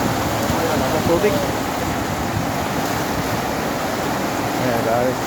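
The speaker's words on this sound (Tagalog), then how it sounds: "Lakas tubig." Loud, steady roar of rushing floodwater after rain in Saudi Arabia fills the scene, with a few brief faint voices in the background.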